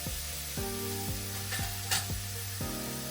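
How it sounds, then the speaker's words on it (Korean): Roughly torn mushrooms are pan-fried until golden brown. A steady, close sizzle continues under light scraping and stirring movements, with no voices. "또 노릇노릇해질 때까지 구워주면 됩니다"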